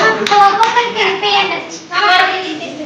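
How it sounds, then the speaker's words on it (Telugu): Family members clapping at a baby's rice-feeding ceremony at home, close and uneven hand claps mixed with children's voices and chatter. "అందరు చప్పట్లు కొట్టండిరా"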